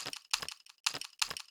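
Pencils clatter and tap in short dry bursts, a few quick wooden clicks repeating in an irregular rhythm, close and fairly quiet, recorded as a sample for layering with drums.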